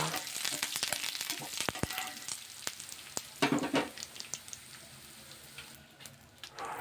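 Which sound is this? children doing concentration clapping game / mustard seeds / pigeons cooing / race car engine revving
mustard seeds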